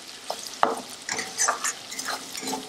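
Jackfruit seeds and prawns with turmeric, salt and a whole chili sautéing in a pan for a spicy curry: steady oily sizzle broken by repeated scraping stirs of a spatula against the pan.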